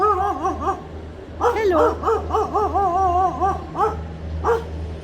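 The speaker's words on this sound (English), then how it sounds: "Shh, the dog saw me." A dog at a tropical fruit park in Cairns gives a string of high, yelping barks and whines in quick uneven bursts, loud and close, with a brief spoken greeting mixed in.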